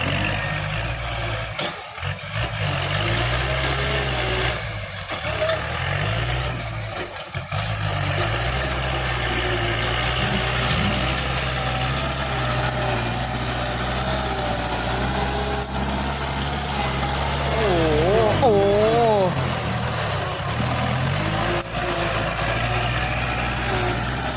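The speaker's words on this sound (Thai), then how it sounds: "ดูครับ รถไถป๋าตุงครับ" A farm tractor engine idles nearby with a steady, low, throbbing rumble that holds for the whole stretch, with a few brief dips and a short wavering whine near the end.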